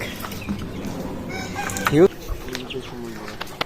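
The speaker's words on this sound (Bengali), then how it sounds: "এই যে মুরগিগুলো, অনেক মুরগি, এত বড় তার খামার।" Chickens on a poultry farm cluck softly over a low outdoor background, and one bird lets out a single louder, rising call partway through.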